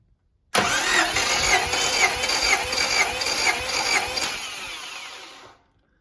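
A 1991 Honda CRX Si Special Edition engine cranks on the starter during a compression test, giving a loud, steady run of rhythmic chugging pulses for about five seconds with no talking.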